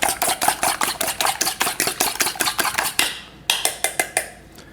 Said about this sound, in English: we're just going to mix these together. Eggs and butter mixture